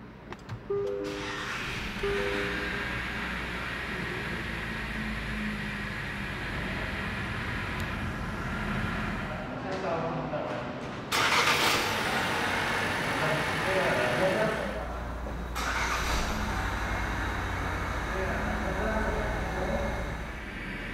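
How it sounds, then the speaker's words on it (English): A 2021 Changan CS35 Plus with a 1.4-litre engine and DCT gearbox starts with a push-button, then settles into a steady idle hum, with a brief louder burst midway and a voice talking over it. "hit this engine start stop button to fire up the engine."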